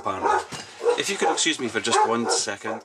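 A dog barks and yips at the postman arriving, bursts breaking out under and between steady nearby speech from a person talking indoors.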